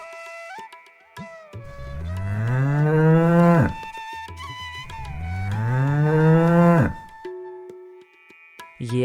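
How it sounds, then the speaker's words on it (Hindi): A cow moos twice in long, loud, drawn-out calls with a strong harmonic rise, the animal caught in bushes, with quiet pauses between the calls and no talking. "तभी रंभाने की आवाज आई।"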